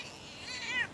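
An agitated cat meows once in a rising, strained cry that swells toward the end, close by and fairly loud against a quiet indoor background.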